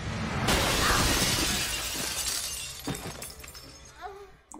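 A glass table shatters in a horror-film scene from Scream 4, a loud crash that opens the clip and trails into scattered tinkling fragments, with voices talking over it.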